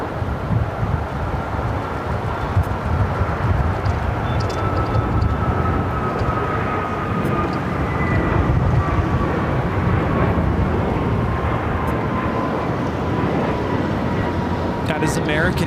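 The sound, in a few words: American Airlines A321neo jet taking off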